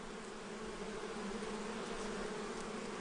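Honeybees buzz inside a hive, a thick, unbroken drone holding steady throughout, close up and with no voices.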